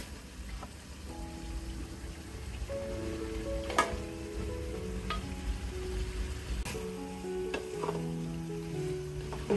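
Beef pieces go into a hot, oil-releasing spice paste for bhuna, giving a steady close sizzle and frying crackle with scattered clicks and knocks of stirring, no voices.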